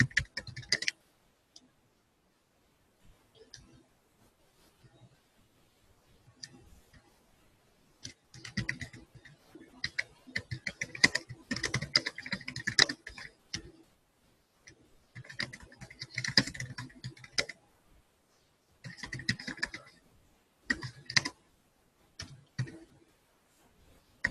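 Bursts of typing on a computer keyboard during a QA class, irregular clusters of quiet key clicks separated by pauses, with no speech.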